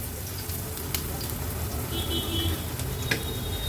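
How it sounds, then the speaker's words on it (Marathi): Crushed ginger and garlic fry in ghee, a soft steady sizzle with faint crackles and an occasional scrape, close and fairly quiet. "नंतर ह्याच्यामध्ये चमचाभर मी आलं लसूण क्रश घेतला आहे, तो पण असा परतून घ्यायचा आहे"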